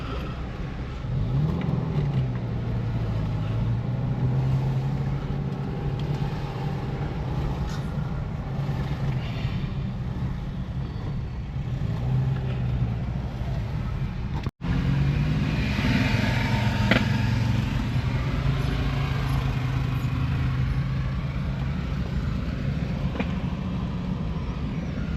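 Police motorcycle engines idle and rumble steadily nearby, lined up together, with a low throbbing drone and occasional revs rising and falling across the scene.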